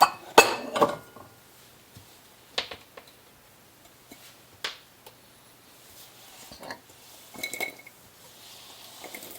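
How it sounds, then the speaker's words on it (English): Green peppers are tipped into a large bowl in a home kitchen, giving scattered light clinks, taps and soft knocks with quiet pauses between them and no talking. "I will put these into a large bowl"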